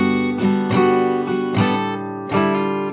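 An acoustic guitar slowly picks part of a song from Cyberpunk 2077: four distinct plucked chords or notes, spaced under a second apart, each ringing and sustaining into the next, close and clear with no voice.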